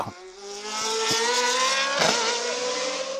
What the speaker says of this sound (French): le public a pu apprécier le chant du seul V8 en catégorie Rennes